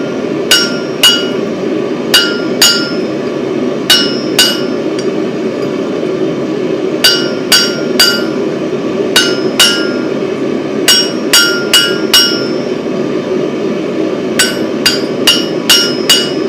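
A blacksmith's hammer strikes an anvil with bright, ringing clangs that come in quick clusters of two to four blows, separated by short pauses, over a steady low background hum.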